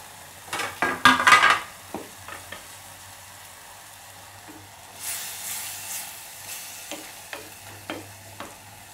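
Vegetables cooking in oil in a kadai for a Tuticorin-style vegetable kurma, with quiet frying hiss under a scatter of spoon and pan clatter, busier at the start and then sparse scraping knocks.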